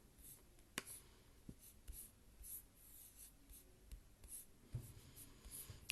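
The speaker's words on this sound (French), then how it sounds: "Je te laisse écrire la forêt 5 fois sur ton ardoise." A word written repeatedly on a small slate during a French spelling dictation, with faint scratchy strokes and light taps recurring at intervals, quiet and close, with no talking.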